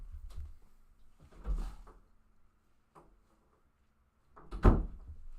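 An indoor door opens to let a dog into a room, giving a couple of soft thumps and handling noises with a louder knock near the end, heard fairly close in a quiet room.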